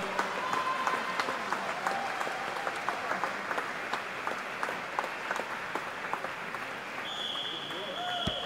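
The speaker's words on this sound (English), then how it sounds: "Let's give them a big round of applause, ladies and gentlemen." Applause for swimming relay finalists at a national aquatic centre championship, a broad wash of clapping in a large echoing hall, moderately distant, with crowd noise and occasional whistles above it.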